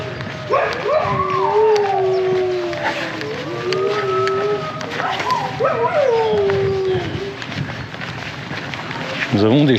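Several dogs in a park beside a pond howl and yip in long wavering, overlapping tones, with short barks mixed in, fairly close and steady throughout, ending in a sharper burst of barking.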